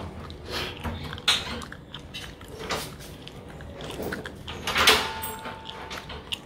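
A household door being worked on and swung during a lock change at home, with scattered knocks, creaks and scraping bumps at close range, irregular and moderately loud.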